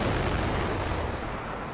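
Bombs exploding at the southern end of a fort, a dense, loud, roaring burst of blast noise that fades slightly over less than two seconds.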